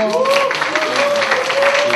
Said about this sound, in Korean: 여러분 큰 박수 주세요